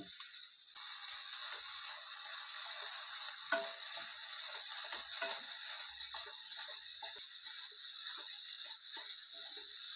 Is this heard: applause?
no